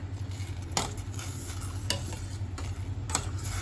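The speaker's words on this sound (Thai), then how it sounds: "จะลวกสะเดาด้วยน้ำร้อนนะคะ" Neem shoots blanch in hot salted water in a home kitchen, a steady low bubbling hiss with occasional sharp clinks of a utensil against the pot, close and moderately loud.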